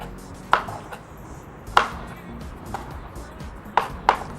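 A kitchen knife coarsely dices food on a board in a few sharp, separate chops spaced irregularly, close and crisp, over a quiet background.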